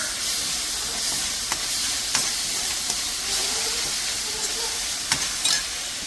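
Soy sauce and red sauce sizzle in a hot pan during stir-frying for a noodle and rice dish, a steady loud hiss with occasional scrapes and clinks of the utensil throughout.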